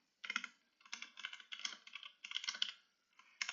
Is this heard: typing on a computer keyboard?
yes